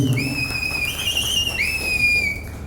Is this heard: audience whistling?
yes